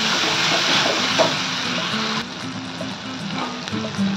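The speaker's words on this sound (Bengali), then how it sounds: "এবার এইটাকে আমি ভালো করে হাই ফ্লেম দিয়ে ভাজবো ততক্ষণ না এর থেকে তেল বেরোচ্ছে।" Tomato paste frying over a high flame for chicken tikka masala, a steady broadband sizzle with soft bubbling and occasional stirring scrapes, close and continuous with no voice.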